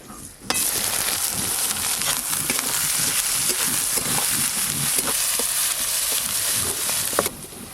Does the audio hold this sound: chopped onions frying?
yes